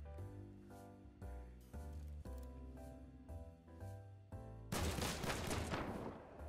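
Revolver gunfire from the video game Hunt: Showdown, a run of about six loud, evenly spaced shots followed by a final burst of dense noisy crackle, with no talking.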